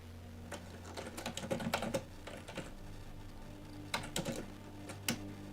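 Keys clatter on a computer keyboard in a quiet room, short irregular bursts of soft clicks with pauses between, fairly close and faint.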